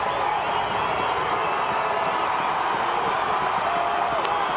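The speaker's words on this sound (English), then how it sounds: "Both crowds getting fired up." Crowd at a 2009 high school football state championship game, Bluefield Beavers versus Wayne: a steady roar of cheering and clapping from the stands, continuous and even throughout.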